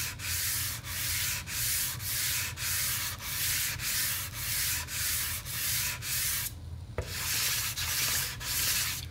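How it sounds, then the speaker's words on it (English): Steady back-and-forth sanding of a wooden Warmoth Soloist guitar body with 320 grit sandpaper, a repeated rhythmic scraping rasp in regular strokes, close and continuous, with a brief pause near the end. "So now I'm just sanding with 320 grit, getting it all nice and smooth."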